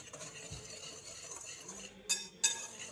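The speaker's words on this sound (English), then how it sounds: "I'm just going to whisk the dry ingredients together real quick" A whisk stirs dry ingredients with pie spice in a bowl for a cranberry cobbler. There is a soft, steady scrape, then two sharp, close metallic clinks near the end.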